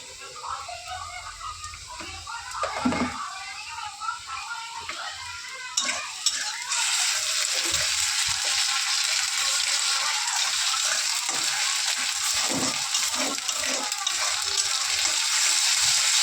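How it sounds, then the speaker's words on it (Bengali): Ginger paste with garlic paste and fried chopped onion sizzles in a pan while being stirred, a quieter start giving way to a loud steady sizzle with scraping stir strokes, someone talking over it. "একটু ভাজা ভাজা করে নিয়েছি"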